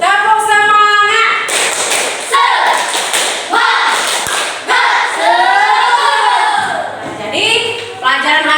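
An Indonesian primary class, standing, does a spirited clapping cheer: irregular bursts of hand claps and thumps mixed with children's and a teacher's chanting voices, loud and close.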